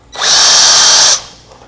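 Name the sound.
drilling a router plate with a countersinking bit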